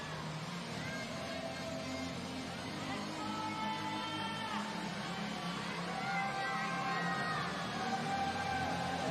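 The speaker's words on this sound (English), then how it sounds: "You can hear the crowd screaming her name up at the wall." Crowd at a climbing World Championship lead final in Seoul screaming and cheering a climber's name, a steady, dense roar of many voices with rising whoops throughout.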